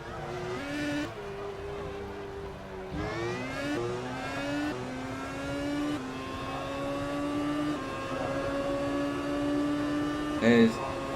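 A 2015 Formula 1 car in the rFactor 2 racing game brakes hard and accelerates again, loud engine pitch sweeping down then climbing through repeated gear changes, with a brief tyre squeal near the end.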